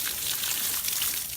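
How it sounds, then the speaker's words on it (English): Water sprays steadily onto pepper plants in a sub-irrigated raised garden bed, a brief, faint, even hiss with no talking. "Water my peppers while I got this out."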